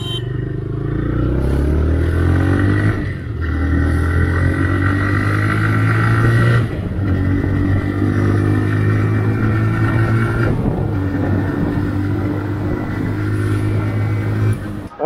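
A TVS Raider 125cc motorcycle rides fast along a highway, its engine droning loud and close with steady revving, brief dips at gear changes and constant wind rush.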